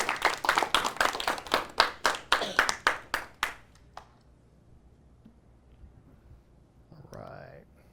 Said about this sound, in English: You all want to give him a big round of applause?